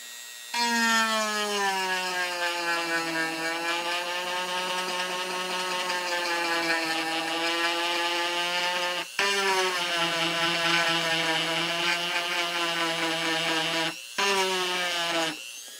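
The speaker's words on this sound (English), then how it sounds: "once I turn it on, the blower blows away every bit of the dust after, after you're carving" A Dremel rotary tool fitted with the 490 dust blower attachment carves wood with a loud, steady, high-pitched whine. The pitch wavers slightly, and the sound briefly dips twice before resuming.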